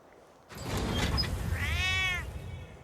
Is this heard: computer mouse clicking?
no